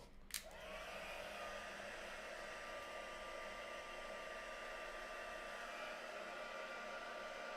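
A hair dryer blows a steady, close whoosh over wet craft paint, starting with a click and holding a constant tone for several seconds.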